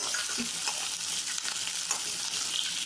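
Onions, garlic and green chilies fry in a pan in hot oil, giving a steady bright sizzle with soft stirring scrapes, close and continuous.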